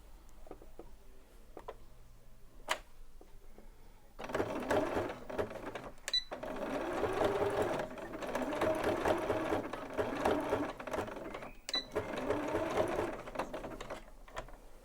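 Domestic sewing machine zigzag stitching fabric in quick bursts of rapid mechanical whirring and clatter, several runs separated by short pauses and faint handling clicks, close and fairly quiet.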